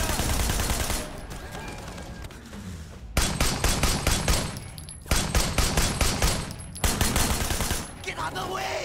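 Gunfire in the video game Sleeping Dogs: dense, loud bursts of rapid shots in repeated volleys with brief gaps, close and continuous over a busy background.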